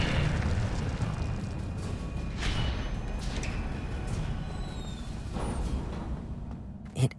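An Incendio fire spell in Hogwarts Legacy bursts into a sustained roaring blaze with crackling flares, loud and rumbling, ending in a sharp pop.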